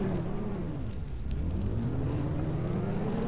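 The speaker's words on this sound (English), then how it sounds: "this car can't turn" Steady low engine rumble of a car driving in a city-building video game, a continuous droning hum with a brief dip in the middle, heard alone without talk.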